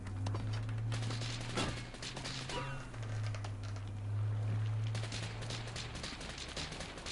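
Gunfire in the video game Metro Exodus: rapid clattering bursts of shots under a low steady droning hum, continuous and moderately loud.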